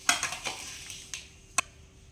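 A spoon mixes mango pickle in a bowl, giving a few scraping and clinking strokes with short pauses between them. The sounds are close and fairly quiet.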